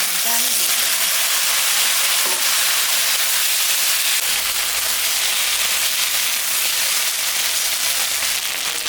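Potato, eggplant and a few taro stolons sizzle in hot oil in a pan over already-fried onion, cooking for a rui fish curry; a steady, dense frying hiss continues evenly throughout without a break.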